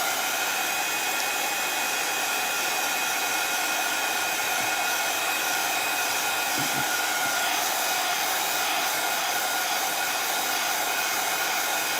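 A hair dryer blows on a craft piece, a steady, even whir that runs unbroken at a moderate level for the whole stretch, with no voices.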